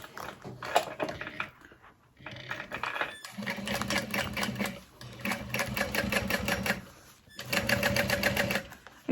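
A sewing machine runs in several rapid bursts of rhythmic stitching with short pauses, top-stitching a wallet from the exterior.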